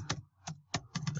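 A computer keyboard is typed on in short close clicks, a few quick keystrokes in an uneven rhythm, with no voice over them.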